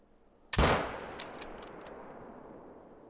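A single 6.5 rifle shot fired at a Sika deer in a hunting video game: one sharp, loud crack followed by a long, fading echo and rumble, with no voices.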